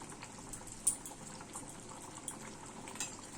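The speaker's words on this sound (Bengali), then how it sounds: "পনিরটা দিয়ে অল্প টাইম ফুটতে দিতে হবে" Paneer curry bubbles gently in a pot, a faint, soft simmer with small pops and blips scattered over a low steady hiss.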